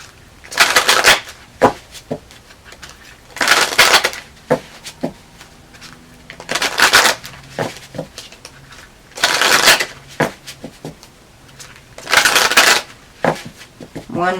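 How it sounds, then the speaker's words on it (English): A deck of Shamanic Healing Oracle cards being shuffled in repeated bursts, five or six crisp riffling runs a couple of seconds apart, close to the microphone, with a voice speaking between them. "One more shuffle."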